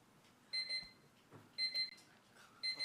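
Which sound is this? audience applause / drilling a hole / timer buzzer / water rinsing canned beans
timer buzzer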